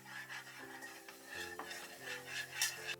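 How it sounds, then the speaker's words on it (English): Spices being stirred into a Japanese beef curry mixture in a pot, soft scraping and stirring close up under a faint background hum, with no talking. "Add the spices. Stir for 20 seconds."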